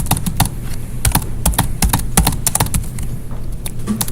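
Rapid, uneven clicking of keys on a computer keyboard carries on nonstop, close and crisp, with no voice over it.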